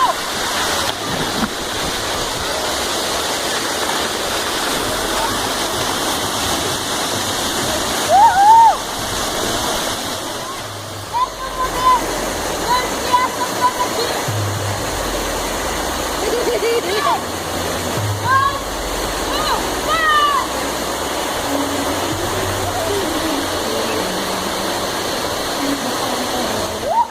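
Waterfall with water rushing and splashing, a loud, steady roar throughout, with people talking and shouting over it in several bursts.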